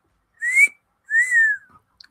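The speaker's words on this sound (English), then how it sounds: "That was a horrible whistle" A person whistling two short rising-and-falling notes, the second longer and sliding downward, close and clear with silence between them and nobody talking.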